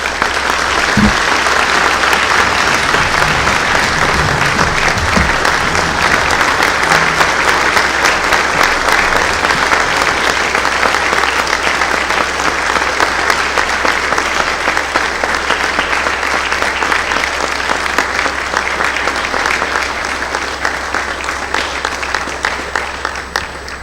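Loud, sustained audience applause fills a sports awards ceremony, dense clapping continuing steadily for over twenty seconds before tapering slightly at the end.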